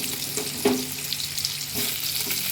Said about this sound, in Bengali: এবারে আমি এই তেলের মধ্যে হালকা করে সিদ্ধ করে রাখা ইঁচড়টা দিয়ে দিচ্ছি।